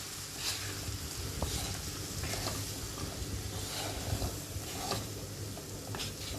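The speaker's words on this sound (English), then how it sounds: "I am going to add in the besan or the gram flour into the mixture. Give everything a good mix." Gram flour being stirred into zucchini masala in a pan gives soft, continuous scraping and faint sizzling, quiet and steady with a few brighter scrapes, no voices.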